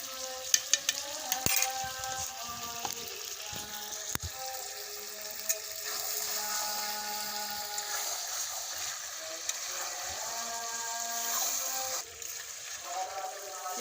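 Chicken sautéing in a pan with apple and mango leaves: a soft, steady sizzle with occasional clinks and scraping of stirring, fairly faint and close, with faint background tones.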